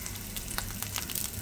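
Curry leaves and asafoetida crackle and sizzle in hot oil for a Maharashtrian matki usal, a dense close spitting hiss with sharp pops scattered throughout.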